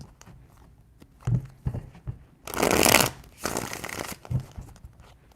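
Tarot cards being shuffled in three quick riffling bursts, with soft handling taps and card contact between them, close up and moderately loud with no talk.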